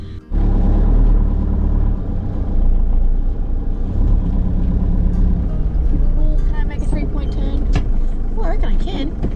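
A car on the road gives a steady, loud low engine rumble and road roar that runs continuously throughout, with faint voices in the cabin.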